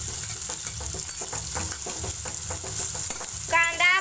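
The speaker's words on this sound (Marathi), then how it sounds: "त्याच्यानंतर आपण चांगले ह्याला हलवून घेऊया." Finely chopped onion sizzles steadily in a hot pan while a spoon stirs it in a regular scraping rhythm, close and fairly loud, with a brief metallic clink of the utensil near the end.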